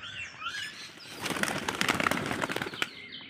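Pigeons in a loft, among them a lakka, pouters and magpies, beat their wings in a sudden close burst of rapid flapping and clatter, with faint soft calls before and after.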